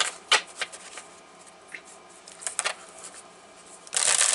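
Tarot cards being shuffled by hand, crisp papery riffles and slides in short bursts, with a louder, sustained shuffle at the end; close and fairly quiet, no talking.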